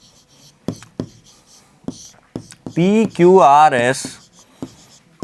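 Short scratchy strokes of writing on a board during a Class 6 Hindi-medium geometry lesson, coming in separate bursts before and after a brief spoken segment.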